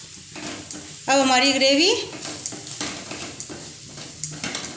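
Dum aloo gravy with garam masala is stirred as it fries in an oil-filled pan, a near scraping and sizzling burst that rises sharply for about a second, with a person talking across the rest.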